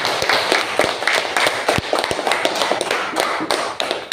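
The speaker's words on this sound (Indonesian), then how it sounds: "beri tepuk tangan" A classroom of students in an Indonesian school claps for a group, producing a dense, continuous patter of close, uneven hand claps with scattered louder thumps throughout.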